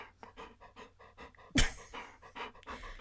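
A dog pants right into the microphone, close and rhythmic quick breaths with one loud bump partway through.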